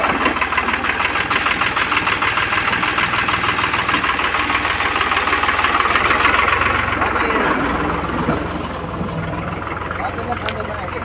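Tractor engine running close by, a loud knocking diesel rattle with a rapid steady beat that eases slightly near the end, with people talking over it.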